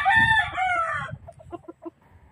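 A rooster crows loudly up close, then a few short clucks follow.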